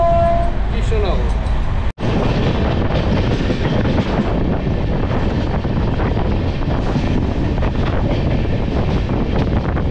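The 13115 Humsafar Express pulls into Krishnanagar City Junction with loud, continuous rumbling and clattering wheels and strong wind buffeting, plus a brief horn-like tone near the start.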